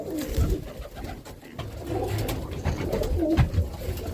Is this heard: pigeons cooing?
yes